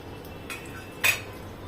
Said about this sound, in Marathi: आता मी एक चमचा तूप टाकते